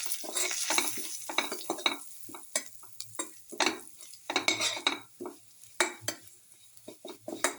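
Chicken casserole ingredients with chili powder are mixed in a pan, giving repeated close scraping and clattering strokes of a utensil against metal over a faint sizzle, in uneven bursts.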